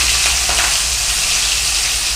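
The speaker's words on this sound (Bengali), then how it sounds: "মাছ কড়াইয়ে দেবো, ভালো করে দেখুন। হ্যাঁ, কড়াইয়ে ছাড়ছি" Rohu fish drops into a smoking-hot wok and sets off a loud, continuous sizzle and spatter of frying oil that holds steady from start to end, with no talking.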